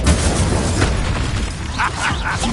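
Incendio fire spell from Hogwarts Legacy, a loud roaring whoosh of flame burst right up close with a dull boom at the start, while a voice speaks over the tail end.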